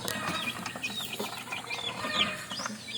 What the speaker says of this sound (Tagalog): Yan, malaking manok din yan mga kabakyard.